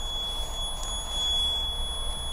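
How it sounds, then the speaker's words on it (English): A car alarm sounds near a Lamborghini Murcielago LP640 at a supercar factory in Germany, a steady high-pitched electronic tone held continuously at moderate loudness over a low room rumble, with no talk. "Sort of set the alarm off on the car."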